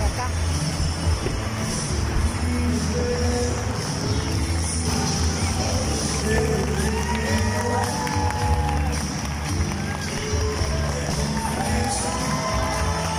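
Theater audience in Tijuana applauding and cheering after a show, a continuous crowd roar with shouts and whistles and voices mixed in throughout.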